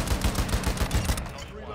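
Rapid automatic gunfire in Call of Duty Modern Warfare 2, a dense, loud rattle of repeated shots in quick rhythm, close and sustained before tapering off.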